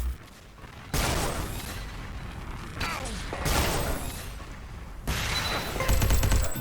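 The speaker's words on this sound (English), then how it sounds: "that was also with the machine gun" Machine gun fire in the video game Xonotic during a duel match, appearing as bursts of gunfire alongside mechanical weapon sounds and clattering game effects, loud and close with several abrupt changes.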